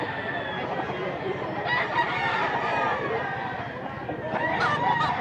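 A rooster at a Mantalungon, Cebu gamefowl yard crows loudly against a constant background of chatter and people talking.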